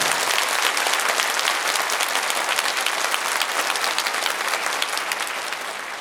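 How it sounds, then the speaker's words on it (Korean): A church congregation at a Saturday united prayer meeting breaks into steady, dense applause that fills the room, sustained evenly and tapering slightly at the end. "다시 한번 격려의 박수 한번 보내주시기 감사합니다"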